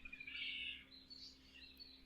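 Birds sing a faint morning chorus at sunrise in a mountain setting, with thin high chirps and trills, the clearest burst early on and softer calls following, over a low quiet hum.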